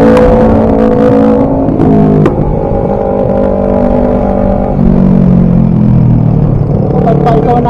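A Samurai 155 car engine revs loudly and steadily in a parking area, pitch shifting up and down, with voices faintly mixed in near the end.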